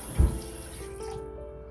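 Water from a kitchen tap runs into a sink while raw chicken is being washed, opening with a sharp splash and then settling into a steady, close rush of flowing water.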